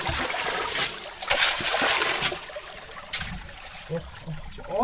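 Water running through a freshly cleaned qanat channel in Kahak near Delijan, a close, continuous trickling and splashing flow with louder surges, while people talk over it.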